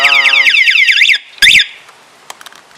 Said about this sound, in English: very loud alarm.